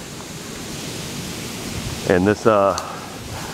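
Rainwater from city drains pours steadily into the Missouri River, a broad continuous rushing hiss throughout, with a voice speaking briefly near the end.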